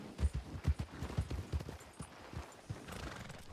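Horse hooves clopping in quick uneven beats with a whinny in Red Dead Redemption 2, fairly soft and close, with no talking.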